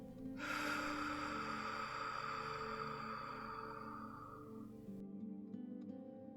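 Slow, steady exhale during a guided sophrology breathing exercise, a soft continuous breathy rush lasting several seconds and tapering before near silence, close and alone.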